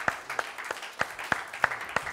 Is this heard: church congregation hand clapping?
yes